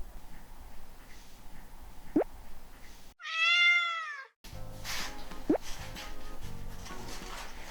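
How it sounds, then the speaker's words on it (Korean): A cat gives one clear, drawn-out meow, with a couple of brief knocks and quiet room sounds before and after. "우리 모모 행복하다면 야옹해"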